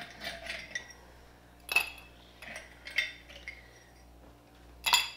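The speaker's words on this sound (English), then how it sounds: "Start off with some ice cubes" Ice cubes dropped into a glass for an apple bourbon cranapple spritz cocktail, giving several separate bright clinks and rattles spread over a few seconds, close and fairly quiet, with no talking.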